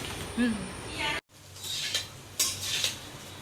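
Chow mein being stirred in a pan, a spatula scraping and clinking against metal in quick repeated strokes over a soft sizzle, with a brief break partway through, fairly close.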